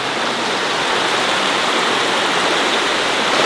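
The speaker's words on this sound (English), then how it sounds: "Let's go look at the river." A rushing mountain river beside a cold plunge spot, a loud, steady broadband roar of churning water filling the whole moment without a break or any voices.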